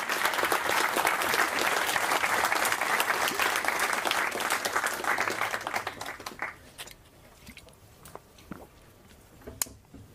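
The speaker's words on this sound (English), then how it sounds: "I'm okay with people clapping for 5 minutes" Audience applause after a talk on privacy in self-hosting, dense sustained clapping from a crowd for about six seconds, then thinning into a few scattered claps before fading out.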